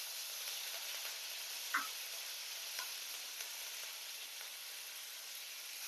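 A handful of curry leaves hits hot tempering oil for hotel-style sambar, giving a faint, even sizzling hiss with a few soft clicks of a utensil against the pan, and no voice over it.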